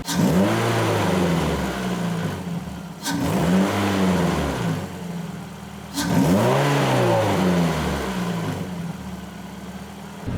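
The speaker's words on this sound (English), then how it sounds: "Gonna rev it up." A car engine revved hard three times in succession, each burst rising sharply and then sliding back down toward idle, loud and close, with no talking.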